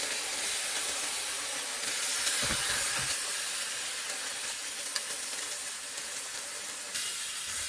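Pork strips sizzle in a hot frying pan on a bed of onions for a Japanese ginger pork stir-fry, a steady close hiss and crackle with no voices.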